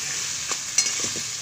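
Vegetable stalks stir-fried in spice paste: a near, even sizzle broken by two or three quick spatula scrapes and taps on the pan.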